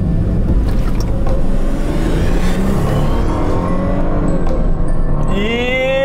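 A Lada Granta launches hard from a standing start, its engine roaring loudly close by and climbing in pitch as it accelerates through the run.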